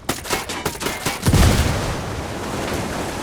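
A grenade blast and gunfire in the video game Ghost Recon Wildlands: a quick burst of shots, then a heavy deep boom that rolls off into a lingering rumble, loud and close.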